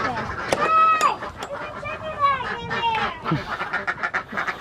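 Ducks quacking repeatedly in a pen, nasal calls overlapping at close range throughout, while people talk nearby.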